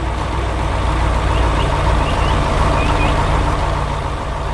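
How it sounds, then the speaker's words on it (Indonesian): A red truck works in a farm field, its engine a steady, loud drone that runs unbroken throughout, with no talking over it. "Truk merah bekerja keras di tengah ladang."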